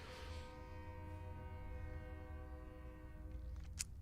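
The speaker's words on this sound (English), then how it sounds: "Can you hear the train in the background?" A train passes in the background, its horn sounding a faint, sustained, multi-toned blast over low rumbling noise, ending with a brief sharp click.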